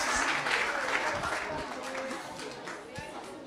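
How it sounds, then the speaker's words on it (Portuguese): Audience applause at a graduation ceremony in Baixo Guandu and Mantenópolis, a dense wash of clapping that holds steady and thins slightly toward the end, with crowd noise mixed in. "Mais uma salva de palmas à nossa condessa"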